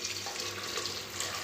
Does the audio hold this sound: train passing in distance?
no